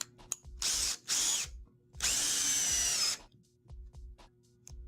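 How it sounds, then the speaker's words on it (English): A power drill pre-drills a composite deck board in three close, loud whining bursts, the last the longest, with short pauses and small clicks between them and no talk. "With composites, it's usually required that you pre-drill before you face screw."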